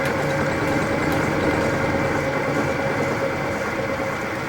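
A wood lathe spins a vase blank at about 500 RPM, making a steady, fairly loud motor drone with a faint whine that holds unchanged throughout.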